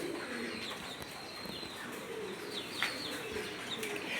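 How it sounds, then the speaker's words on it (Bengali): Pigeons coo softly and faintly at a pigeon house while bathing in water, with a low, continuous background wash and occasional chirps. "পানিতে গোসল করতেছে।"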